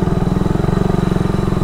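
Motorcycle engine on a road near a campsite at Viewscape Nature Park, a loud, close, steady pulsing drone with rapid even firing beats, alone without talk.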